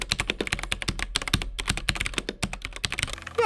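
Typing on a budget Amazon mechanical keyboard with yellow linear switches, a quick irregular run of close, crisp key clacks with short pauses, alone and fairly quiet.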